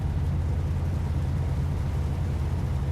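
A truck engine in American Truck Simulator idles with a steady, deep, droning rumble that holds constant throughout, loud and close with no speech over it.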